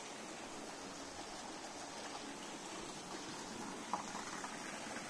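Water runs out at a temple bathing ghat, a steady, fairly faint stream-like rush heard from a little distance, continuous throughout with one small knock near the end.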